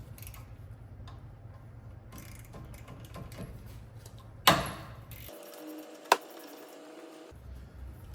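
A ratchet cracks loose rear brake caliper bolts with quiet repeated clicking, a sharp snap as a bolt breaks free, then a brief metallic clink, close up without speech.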